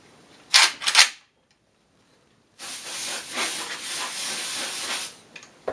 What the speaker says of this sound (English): go ahead and use some air in this can